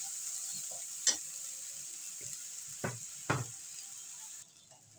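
Onion and garlic fry with turmeric and salt for fried lobster head fat, under a steady hiss of sizzling oil punctuated by a few sharp scrapes and knocks of a spoon stirring in the pan, with no talking.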